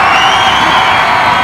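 A crowd cheers and whoops loudly for the Cobra at a supercar sound-off during a car weekend at Beaulieu, a dense sustained roar of many voices close by, filling the whole short moment.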